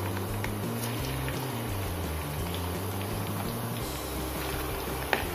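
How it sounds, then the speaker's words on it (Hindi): Okra (bhindi) deep frying in rice bran oil makes a steady, bubbling boil that runs unbroken at moderate volume, with a low humming undertone and no talk. "जब ऑयल गर्म हो जाए तब हम इसमें भिंडी को डाल देंगे। हमें भिंडी को डीप फ्राई करना है।"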